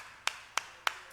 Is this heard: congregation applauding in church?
yes